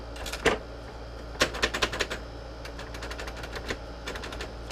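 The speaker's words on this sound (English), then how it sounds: "This is a Royal Custom 2 typewriter." A Royal Custom 2 typewriter clacks through bursts of keystrokes, with scattered single strikes and quick clustered runs of sharp mechanical taps over a faint steady hum.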